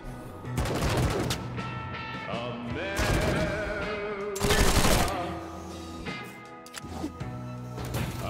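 Deployed turrets in Wasteland 3 fire in several loud, close bursts of rapid shots separated by short gaps, mixed with other combat effects and a voice now and then.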